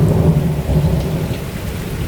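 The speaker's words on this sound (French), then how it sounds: "je suis toujours sous la pluie" Heavy rain pours down steadily with a deep rumble of thunder underneath, a loud, dense wash of storm noise.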